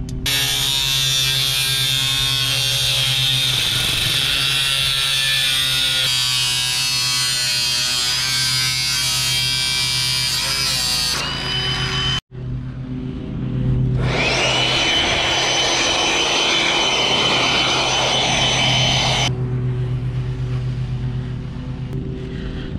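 Power tool cutting a metal ridge cap for a barn roof, a loud, steady high-pitched whine running continuously, briefly stopping, then resuming for another long close cut.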